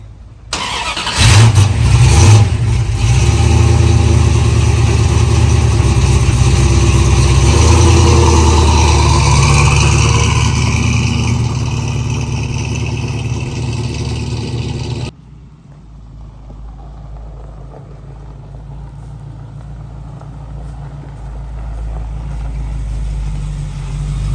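A car engine starts and pulls away, revving loudly and steadily for about fifteen seconds before dropping abruptly to a quieter, distant cabin rumble as the drive continues.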